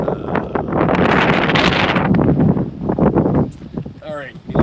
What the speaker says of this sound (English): A little bit windy today, but otherwise it's a fairly warm day.